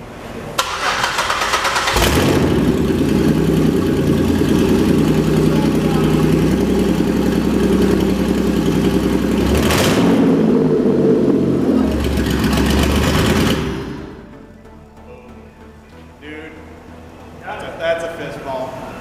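A car engine cranks and fires up after its computer is reprogrammed, then runs loud and steady at idle for about eleven seconds before dropping away, leaving quieter background sounds.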